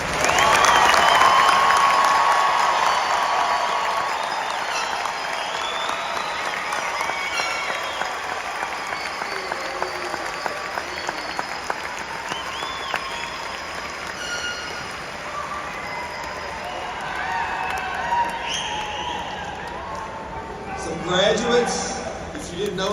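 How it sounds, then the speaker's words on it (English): Graduation ceremony audience applauding the graduates, a loud, dense round of clapping that swells at the start and then gradually thins out, with cheering and crowd noise mixed in and a few voices near the end. "Let's give these graduates one more round of applause."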